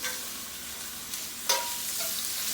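Italian sausage frying in a pan gives a steady close sizzle with occasional stir clatter, including a sharper scrape about halfway through.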